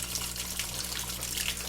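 Water gushing into a washing machine on a delicate cycle, a continuous loud rushing stream with a low steady hum underneath, no voices.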